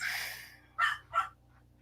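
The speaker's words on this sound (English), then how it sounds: "I was rudely interrupted by my dogs" Dogs bark twice in quick succession at moderate distance, two short sharp yaps following a fading breathy sound, with no talking over them.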